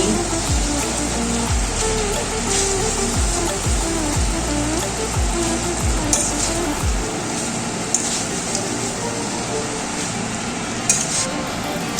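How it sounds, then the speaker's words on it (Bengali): Boiled chowmein noodles being stir-fried in a pan give a loud, steady sizzle with repeated scraping and tossing strokes. The rhythmic stirring stops about halfway, leaving the frying hiss and occasional clinks. "সেদ্ধ করা চাউমিনগুলো দিয়ে দিচ্ছি তারপর নেড়ে চেড়ে নিচ্ছি"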